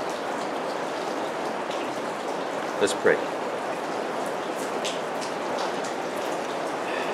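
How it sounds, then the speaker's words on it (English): Steady rain falls on a barn roof, a constant even patter throughout, with a person speaking briefly over it near the middle. "Father, thank you for the rain."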